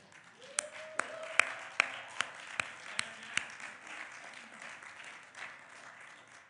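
A church congregation claps along in a quiet hall, with about a dozen sharp, evenly spaced hand claps over soft applause and low voices, fading after a few seconds.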